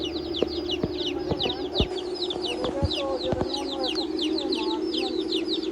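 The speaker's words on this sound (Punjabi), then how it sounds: "ਇਹ ਮਾਸ਼ਾਅੱਲਾ 28 ਦੀ ਮੁਰਗੀ ਦੇ ਬੱਚੇ ਨੇ।" Aseel hens cluck softly while chicks cheep in a busy, continuous chorus, with scattered taps and knocks close by.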